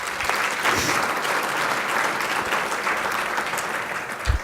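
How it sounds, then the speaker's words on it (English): Audience applause for council members at a City of Phoenix awards event, a dense steady clapping that fills the room for several seconds at moderate loudness with no talk. "So let's give them a round of applause, please."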